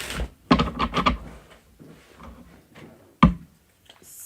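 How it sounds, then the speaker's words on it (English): A small tarot card deck is shuffled by hand in a run of quick papery riffles and soft slaps, then a single sharper snap, close and fairly loud. "Shuffles nicely though."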